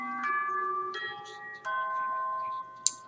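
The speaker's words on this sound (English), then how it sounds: "It's the class bell." A school class bell from the video game Misao rings as a series of three sustained electronic chime tones, each clear and steady, ending with a brief sharp click.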